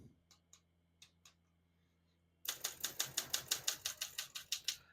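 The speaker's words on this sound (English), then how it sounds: "We're going to keep that on single for now and finish typing." A 1969 Olympia SM9 portable typewriter: a few scattered key clicks, then a steady run of about fourteen crisp, evenly paced keystrokes close up, with no talking.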